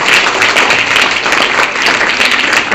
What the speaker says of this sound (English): Clap for this.